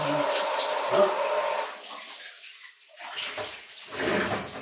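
Shower water runs in a bathroom, a broad hissing spray that dips and swells as the stream is interrupted, fairly loud and close.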